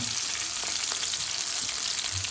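Whole garam masala spices, including shahi jeera, cloves, cardamom, star anise and cinnamon, fry in hot oil with a steady, dense sizzle close by, crackling evenly throughout with no voices.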